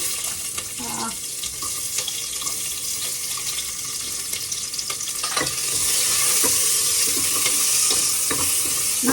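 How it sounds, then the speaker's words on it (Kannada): Onions dropped into hot oil for a mutton chops recipe, a steady sizzle that swells and brightens in the second half, with a few scraping stirs and light clatter of a utensil against the pan. "ಇವಾಗ ಎಣ್ಣೆ ಬಿಸಿ ಆಗಿದೆ ಈರುಳ್ಳಿನ ಹಾಕ್ತಾ ಇದ್ದೀನಿ ಇದ್ರೊಳಗಡೆ"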